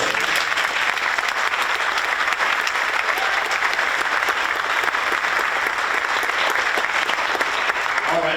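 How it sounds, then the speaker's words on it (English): One more round of applause for the Lighthouse honorees fills the hall at a 2023 board recognition ceremony, a thick, continuous crowd clapping at steady loudness throughout with no speech over it. "Please, one more round of applause."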